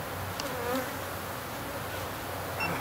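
Killer bees swarm around an opened hive, a dense continuous buzz of many insects close by, steady and moderately loud with no talking.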